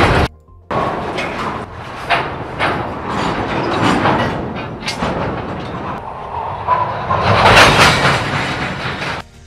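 Railway rolling stock in the Trainz simulator clanks and rumbles steadily throughout, with clattering couplings and a brief sliding, door-like scrape near the end, loud and continuous with no talk.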